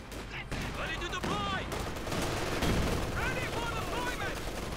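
Gunfire from MG-34 machine guns in a Company of Heroes 2 battle, steady dense rattling bursts mixed with other battlefield noise, with a voice talking over much of it.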